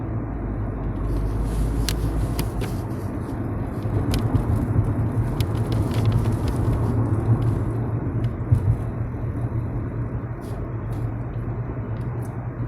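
A car is being driven along a road, giving a steady low engine rumble and road noise that holds throughout. Faint clicks and taps sit above the rumble.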